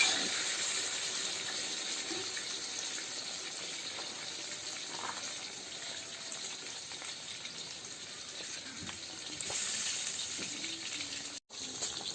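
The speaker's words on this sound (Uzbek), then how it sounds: "Mana kartoshka biz ham qovurilyapti" A steady, soft hiss of potatoes frying in oil runs throughout, with a brief dip near the end and no voices.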